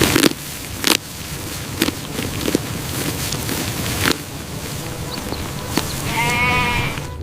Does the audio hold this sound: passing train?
no